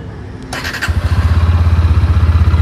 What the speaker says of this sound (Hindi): तो ये है गाइस आइडल साउंड इंजन का।